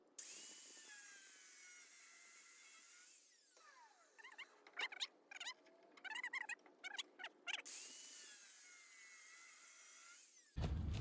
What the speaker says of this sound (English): use a grinder here with a cutoff wheel, and just try to keep this as flat as I can